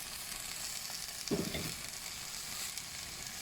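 Watermelon rind stir-fries with egg in a pan, a soft continuous crackling sizzle with a short scrape of the spatula partway through.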